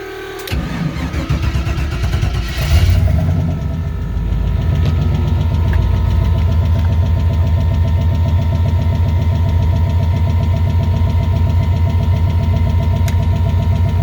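A Nissan Altima engine with a worn-out connecting rod cranks and fires up close by, then settles into a rough idle with a steady, rhythmic rod knock underneath.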